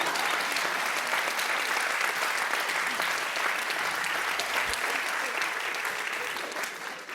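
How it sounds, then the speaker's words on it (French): Steady, dense applause from a comedy show audience in Nantes, a full wash of clapping that holds for several seconds and tapers off slightly at the end. "Là, vous pouvez applaudir parce que j'ai réussi."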